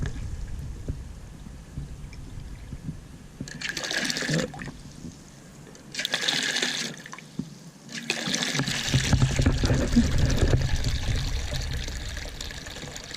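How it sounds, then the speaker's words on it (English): Water leaks out the front of a newly installed Jobe Rojo valve, coming in short pouring bursts before settling into a steady, fairly quiet trickle and splash. "Looks like there's leaking out the front."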